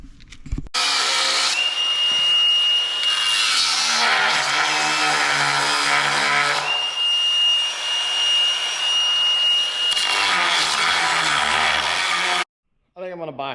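An angle grinder, probably fitted with a cutting wheel, slices steel circles for a bush hog wheel in a farm fabrication setting. A loud, steady grinding roar with a high whine runs close for about twelve seconds, then cuts off.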